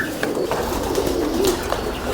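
A female Faisalabadi pigeon coos close by in a few soft, throaty, repeated calls over a mild background hum.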